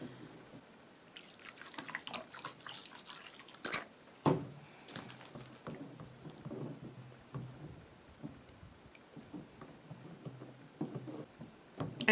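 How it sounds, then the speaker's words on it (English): Pink glitter slime mixture is stirred in a bowl, making soft wet squelching and dripping sounds in a steady irregular run with a few sharper knocks, close and quiet, no talk. "let's add some of that and stir it around and see what happens"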